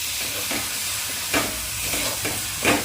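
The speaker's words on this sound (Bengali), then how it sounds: "কনডেন্স মিল্কটি দেওয়ার পর ভালোভাবে মিশিয়ে নেওয়া হচ্ছে" A coconut laddu mixture with Nestle condensed milk is stirred in a pan, with a steady sizzle underneath and a few louder scraping strokes at irregular intervals.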